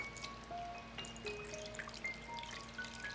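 Water trickles and drips into coconut powder in a pot for curry, a soft, faint liquid dribble with small bright plinks over low steady background hum.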